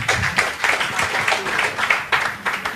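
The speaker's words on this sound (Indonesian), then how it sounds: "Sekali lagi tepuk tangan biar tambah semangat" An audience at an Islam versus Christianity debate claps steadily, a dense, lively round of applause that carries on for a few seconds.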